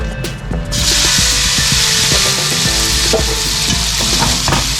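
Meat sizzles and crackles as it fries in a little oil in a hot frying pan, a steady loud hiss with repeated scraping and stirring strokes from a utensil throughout, no voices.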